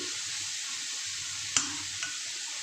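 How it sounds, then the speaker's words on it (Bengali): Potatoes and onions fry in a pan over medium heat, a steady soft sizzle with a single clack of a utensil and a lighter tap shortly after, close and without talk. "একটু লাল লাল করে ভেজে নেব খুব বেশি লাল করব না"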